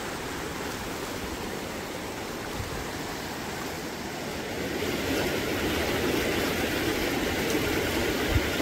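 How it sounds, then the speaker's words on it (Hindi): A waterfall in the Jim Corbett area rushes with a steady broadband roar, heard from a distance and swelling slightly louder midway through, with no talk over it. "झरना है भाई, क्या जबरदस्त है यार।"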